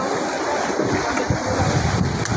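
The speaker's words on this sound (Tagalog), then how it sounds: "Malaki ang alon." Continuous rushing roar of rough sea water and wind, loud and close, with surging wash throughout and no speech, heard on a boat crossing between Marinduque and Mindoro in the Philippines.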